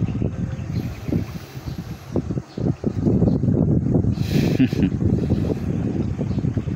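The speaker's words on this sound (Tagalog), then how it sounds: "Hindi ko alam kung nare-record dyan sa inyo dito sa cellphone yung hangin." Wind buffets a nearby phone microphone in rough, rumbling gusts with a couple of brief drops, and a voice speaks underneath.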